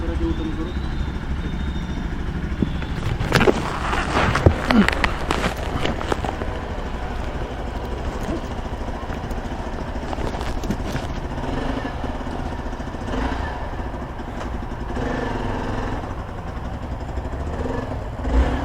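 A motorcycle rumbles steadily at close range as it is brought out for a test ride before purchase, its engine noise continuous throughout while people talk nearby.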